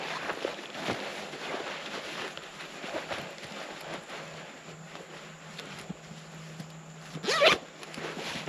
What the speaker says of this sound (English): Got good zippers on it, got good clips.